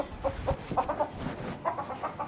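A hen clucks softly and repeatedly at close range while sitting in the spot where it lays eggs, a quiet broken series of short calls.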